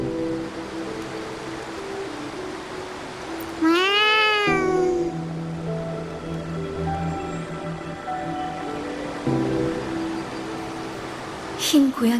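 White cat in the game Wuthering Waves, giving one clear, drawn-out meow that rises and falls near the start of the passage, with a short second cry at the end, over a soft ambient game soundscape.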